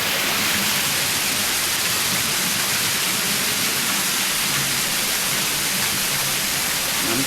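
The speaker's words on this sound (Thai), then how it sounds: "น้ำตก" Loud, dense roar of a waterfall at a temple garden in Vientiane, a constant hiss of falling water filling the scene without pause, close and unbroken, no voices.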